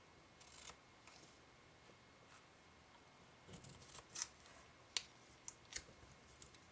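Scissors snipping through paper card while making a beginner's greeting card: a few soft rubbing cuts, then a run of sharp, close, separate snips near the end, quiet overall and without talk.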